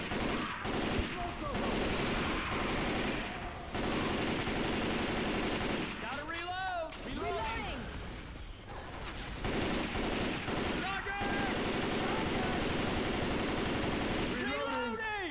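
Gunfire in Left 4 Dead 2 keeps up in dense bursts of rapid shots while survivors hold off zombies inside a shopping mall, with short pauses between volleys and a voice talking now and then.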